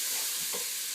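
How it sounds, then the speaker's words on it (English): A spoon stirs squash soup ingredients in a cooking pot, giving a brief, soft scrape and slosh near the middle of a short moment over a steady background hiss. "So I'm going to give this a little stir."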